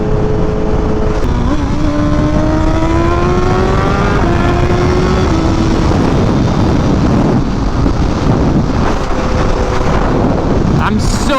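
A BMW S1000RR motorcycle set up for drag racing revs loud and close under heavy wind noise, with its engine pitch climbing and then dropping at each gear shift; a rider speaks briefly.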